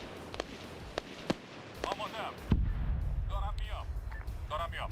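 Dull booms of air strikes and artillery explosions in a military trench warfare video game, scattered sharp cracks followed by a louder rumbling blast, fairly distant and low in level, with faint voices in the background.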